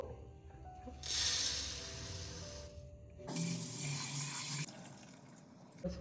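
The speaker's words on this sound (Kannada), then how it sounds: "ನೀಟಾಗಿ ವಾಶ್ ಮಾಡಿ ಸ್ಟ್ರೈನ್ ಮಾಡೋದಕ್ಕೆ ಈ ಥರ ಇಡಬೇಕು" Running tap water gushes in two separate bursts as fresh okra is rinsed, with quieter pauses between and a faint hum behind.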